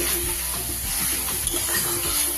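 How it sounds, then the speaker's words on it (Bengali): Fried potatoes being stirred and sautéed with spices in a pan for a Bengali katla fish head and potato curry, giving a steady close sizzle with scraping stir sounds throughout, no talk. "আলুটা দিয়ে আবার অল্প সময় কষিয়ে নিই"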